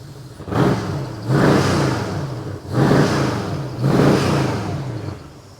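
A Cadillac engine fitted in a cheap Ferrari F40 replica runs while warming up, loud and close, rising in four repeated revs that swell and ease back to a rumbling idle, with no talking.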